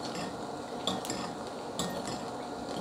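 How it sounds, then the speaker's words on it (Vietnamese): A spoon scrapes and clinks in a bowl while vinegar dressing is stirred beside frying batter, a steady close clatter with a couple of sharper knocks and a low frying hiss underneath, no talk. "Cô vừa pha cái nước giấm này và đồng thời vừa để ý chiên cái bột nữa các bạn."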